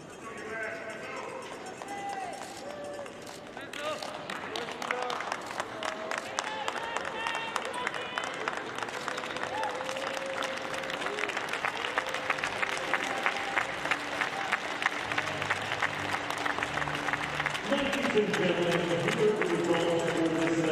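Warm applause from a home crowd at a Beijing 2022 wheelchair curling round-robin game, Great Britain against Latvia, sustained steadily through the whole stretch, with a commentator's voice over it.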